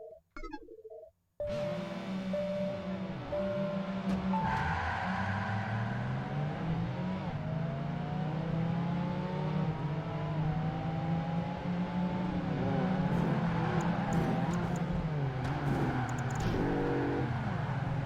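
Bentley engine racing in Project Gotham Racing 2, a loud continuous drone that rises and falls through gear changes and revs, steady and close after a brief quiet start, with no talk.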